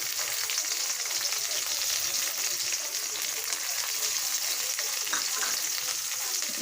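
Chopped onion and green chili fry in oil with a loud, dense, steady sizzle that holds constant throughout, with faint crackles over the hiss.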